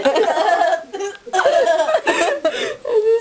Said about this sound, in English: I had a burp.